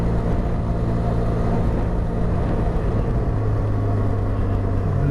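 A 2023 Benelli 502TRK adventure motorcycle engine, a loud steady low rumble and drone with shifting engine tones as it changes down gears and blips the throttle, mixed with riding wind noise and no speech.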